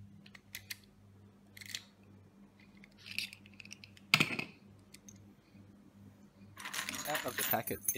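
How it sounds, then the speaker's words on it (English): Keys slide into and turn an inexpensive entrance knob lock fitted to a standard wooden door, giving a series of small metallic clicks and scrapes at close range, ending in a louder rattling burst. "The keys go in and turn."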